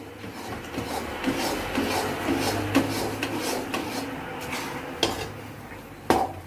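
A spoon scraping and clanking against a pan while stirring thick ghee Mysore pak mixture, irregular metallic knocks and sharper clacks over a low steady background hum.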